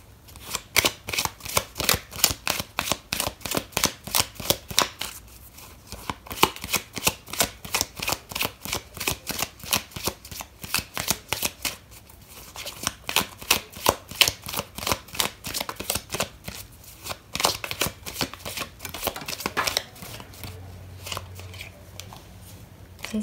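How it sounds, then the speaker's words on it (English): Tarot cards are shuffled by hand in a long run of crisp, rapid riffling slaps and flutters, close and fairly loud, steady and rhythmic throughout with only brief pauses. "I'm going to pull out another card for you,"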